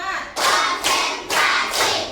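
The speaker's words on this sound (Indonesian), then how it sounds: "tepuk semangat sebelum kita mulai materi ya" A classroom group claps together in a rhythmic 'tepuk semangat' cheer before a lesson, four loud, evenly spaced bursts of clapping, close and unaccompanied by speech.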